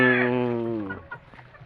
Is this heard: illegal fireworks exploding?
no